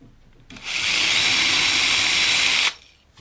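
A small drill with a fine 2 mm bit whirs into material for about two seconds, a high steady grinding whine that starts and stops sharply, close by.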